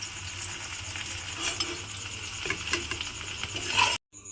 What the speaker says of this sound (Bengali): এইভাবে দিয়ে আলুগুলোকে লাল লাল করে ভেজে নেব।